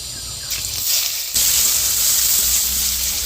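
Onions and dried red chillies frying in hot oil give a loud, close, steady sizzle with crackling hiss that swells as the onions go into the pan.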